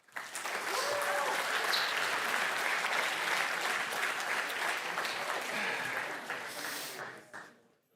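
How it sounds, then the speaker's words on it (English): An audience at a security conference breaks into applause, a full, dense wash of clapping that holds steady for several seconds before thinning and fading out, with faint voices mixed in. "one last clap for Ron"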